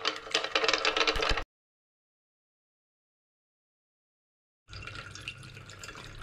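A lab stirrer swirls a solution of table salt and citric acid, giving a loud watery churning that cuts off abruptly, followed by a long silence before a quieter liquid wash resumes.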